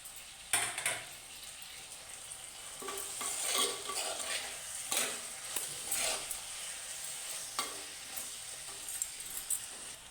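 Tomatoes frying in a pan of prawn theeyal, a sizzling hiss under irregular scraping stirs of a spoon against the pan, close and moderately loud with no talk.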